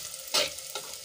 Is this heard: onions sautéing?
yes